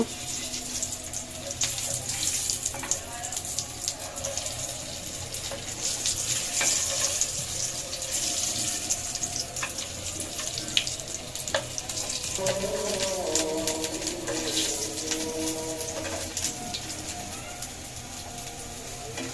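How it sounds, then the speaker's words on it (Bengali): Potatoes fry in a pan with a continuous, dense hiss of sizzling oil, steady and close throughout, with occasional faint clinks and light background sounds. "আলুগুলো আরেকটু ভাজা ফ্রাই করব।"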